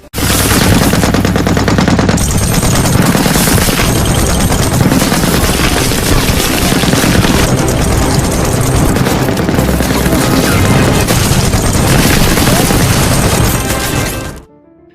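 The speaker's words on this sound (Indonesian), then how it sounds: "senjata mesinnya berhasil menghabisi seluruh tentara yang mendekati parit tersebut" Sustained machine gun fire fills a World War II battle dramatization of Soviet soldiers defending a trench against advancing German troops, with loud, dense rattling bursts and booms running continuously before cutting off abruptly at the end.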